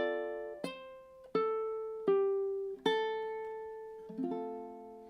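Ukulele plays the final bar of a song: a handful of slow, separate plucked notes and chords, each left to ring and fade, close up with nothing else heard.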